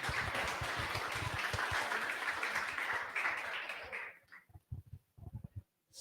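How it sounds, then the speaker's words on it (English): Audience applause at a JavaScript tech meetup, a dense burst of clapping from a crowd that carries on steadily for about four seconds and then breaks up into a few scattered, fading claps. "Claps, everyone."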